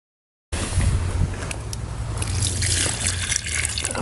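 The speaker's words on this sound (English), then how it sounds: "You start putting your water right in your hole." Water is poured into a rock-lined survival cooking hole prepared for heating with hot rocks, a steady trickling and splashing stream that starts abruptly and continues close up.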